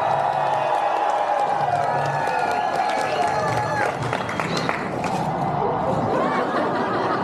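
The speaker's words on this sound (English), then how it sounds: "So on the count of 3, clap, cheer, louder." An outdoor street-performance crowd claps and cheers loudly, sustained applause with whoops and shouts mixed with voices, and a whistle-like tone briefly rising above the noise.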